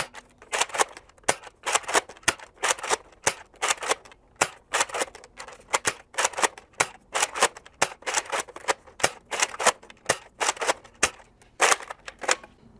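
A Nerf Modulus Recon MKIII blaster fires Nerf Elite darts in a run of quick, snappy clicks and pops, many shots in a steady stream, close up and moderately loud with no voices.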